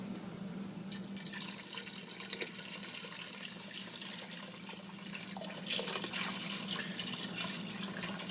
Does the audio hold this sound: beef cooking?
no